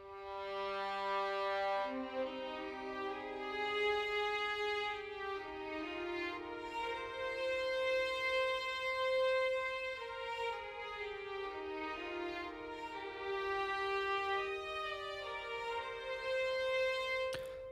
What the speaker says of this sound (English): not symphonic, full chamber string section sounds like this